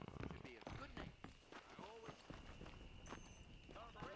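Horse hooves clip-clopping in the video game Red Dead Redemption, a quick run of hoof strikes under a voice and game chatter.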